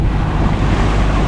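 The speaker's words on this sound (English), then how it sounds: "All I can tell you is that it is windy." Strong wind roars steadily across the microphone aboard a sailboat crossing the Bay of Biscay, mixed with rushing water and surf, loud and continuous with no voices.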